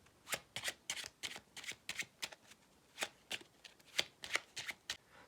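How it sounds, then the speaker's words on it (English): A deck of playing cards being shuffled in a series of quick, crisp riffling bursts, close and clear, about fifteen short flutters in an uneven rhythm with no talking. "Shuffle."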